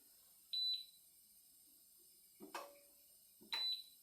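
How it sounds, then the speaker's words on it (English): Short electronic beeps from an Emtronics induction hob showing error E7 with no pan on it, in a quiet room, a pair of high tones followed by two more beeps with small clicks. "The reason it says E7 and it's beeping is because I haven't got the pan on"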